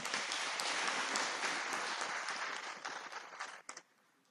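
Applause from the congregation at a Catholic priestly ordination ceremony for deacons, dense steady clapping filling the room for several seconds before thinning out and fading at the end.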